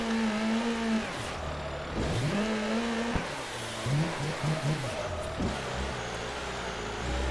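A car engine revs and wavers while drifting in Assetto Corsa, pitch swooping up and down with rapid throttle blips and bursts of tire noise, close and loud throughout.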